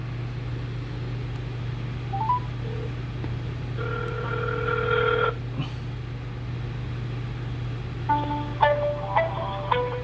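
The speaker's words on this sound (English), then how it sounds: "So if I dial 611, hold on, I'm going to dial 611 now." A phone keypad dials 611 to reach AT&T, with two short bursts of dialing tones over a steady low hum, close and clear, and no talking.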